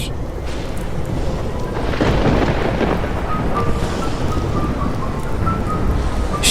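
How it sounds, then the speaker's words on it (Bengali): Heavy thunderstorm with a steady roar of pouring rain and rumbling thunder that swells near the middle, loud and continuous with no voices. "সেরকম ঝড় বৃষ্টি শুরু হলো তুমুল বৃষ্টি আর সাথে বজ্রপাত"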